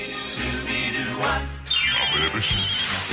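A phone rings in a 1990s mobile phone commercial, its electronic ringing tones repeating over a few seconds amid background sound.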